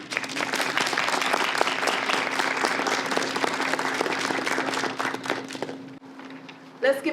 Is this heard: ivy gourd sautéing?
no